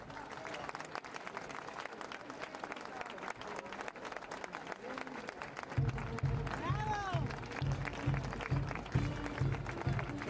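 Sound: applause at a fair inauguration

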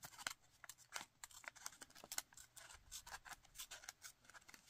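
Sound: scissors cutting paper

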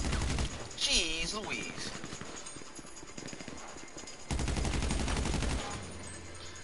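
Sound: gunfire in the video game GTA Online

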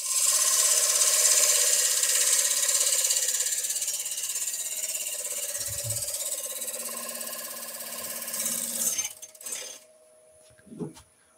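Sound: wood turning gouge cutting a wooden cheese platter

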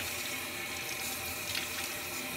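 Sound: rinsing vegetables under running tap water

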